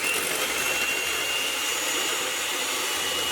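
Whipping powder beaten with cold milk for frosting, the electric beater giving off a steady, loud, close whir with a thin whine running unbroken throughout.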